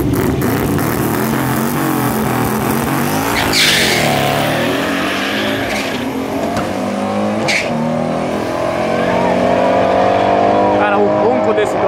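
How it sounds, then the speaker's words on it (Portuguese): A loud Dodge muscle car engine roars continuously during a drag race, revving and accelerating with a deep rumble, while people talk over it. "o ronco desse Dodge é absurdo"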